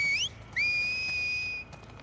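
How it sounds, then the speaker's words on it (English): A two-note whistle from The Last of Us Part II video game: a short rising call, a pause, then a longer sustained rising tone, loud and clear with a quieter whistle echoing faintly behind. "the whistle sounds identical"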